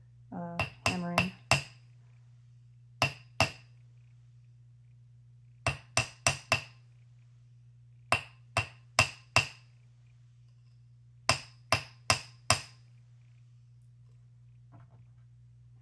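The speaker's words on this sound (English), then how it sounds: "here's the flat face hammer. I'll rotate them around as I'm tapping them so that they have an even hammering" Flat-faced hammer tapping wire Celtic links on a hard block, in four short clustered bursts of sharp metallic strikes with pauses between, close and crisp over a steady low hum, no talking.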